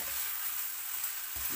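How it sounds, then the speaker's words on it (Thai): Yellow noodles stir-fry dry in a pan, giving a steady close hiss and sizzle with a faint scrape of stirring near the end. "อันนี้เราจะผัดแห้งๆนะคะ"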